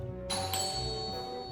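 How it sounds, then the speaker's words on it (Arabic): A house doorbell rings with two quick bright dings that leave a sustained tonal ring hanging in the room, clear and moderately near, with no speech. "هذا جرس البيت مو جرس الإنذار"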